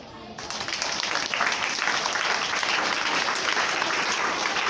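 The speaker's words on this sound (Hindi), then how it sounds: "तालियां बजाओ" A school audience at a meditation session in a government girls' senior secondary school in Bhim Nagar, Gurugram, breaks into dense, continuous applause that swells after a brief start and holds loud throughout.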